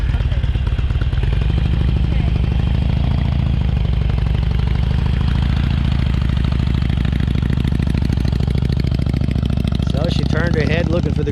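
A motorcycle engine putters steadily at low speed on a rider-training course, a close, continuous drone with small throttle changes, while people talk over it.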